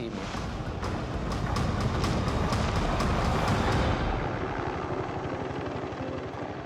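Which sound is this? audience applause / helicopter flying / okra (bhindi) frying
helicopter flying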